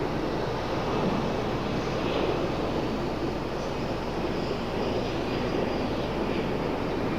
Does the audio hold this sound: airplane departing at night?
yes